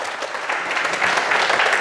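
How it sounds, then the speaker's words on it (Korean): Audience applause at a Sunday Buddhist lecture, a short burst of dense, even clapping from a crowd that swells slightly and holds steady, fairly loud with no other sound clearly standing out. "큰 박수 부탁드립니다."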